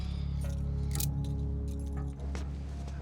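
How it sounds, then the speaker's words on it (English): Keys jangling near an El Camino, a bright metallic rattle around the middle of the clip over a steady low engine-like hum, with no talk. "Let me see the keys."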